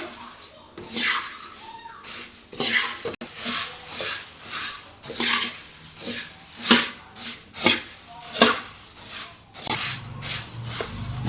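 Puffed rice is stirred and tossed in a pan over low heat, giving repeated rustling, scraping swishes in an uneven rhythm close by, under occasional talk.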